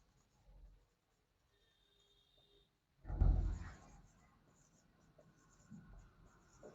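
A pen or marker drawing a single line on a board during a statistics lesson, a short scratchy stroke near the middle, faint and close, with quiet room noise around it and no talk.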